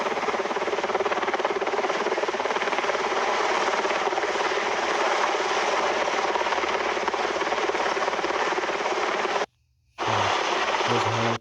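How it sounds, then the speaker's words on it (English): A steady, loud helicopter rotor drone fills the recording, briefly cutting out near the end before resuming. "There's a helicopter."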